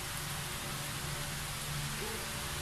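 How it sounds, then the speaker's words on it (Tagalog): A pot of pork nilaga boils steadily, giving a continuous bubbling, hissing wash that stays even and close throughout with no break. "Ayan guys, kumukulo na."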